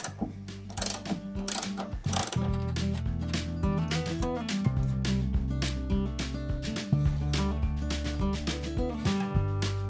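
A ratchet loosens bolts on the front suspension of a Subaru Brumby, giving rapid, close clicking bursts in repeated strokes with brief pauses between them.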